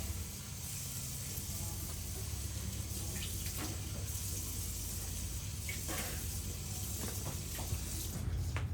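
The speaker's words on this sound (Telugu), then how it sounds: "అవి ఇచ్చేస్తే నేను వాటర్ కింద పెట్టి కడిగేస్తా" Steady running tap water pours continuously in a kitchen sink while items are rinsed underneath, with faint clinks and handling noises breaking through the even flow.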